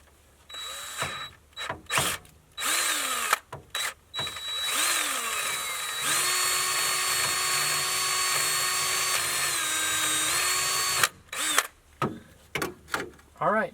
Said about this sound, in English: right now I'm having to drill out that bottom bolt right there.